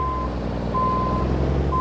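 An International 9900i truck backing up a trailer sounds its reversing alarm: loud, steady electronic beeps repeating at an even pace over a constant heavy diesel engine rumble.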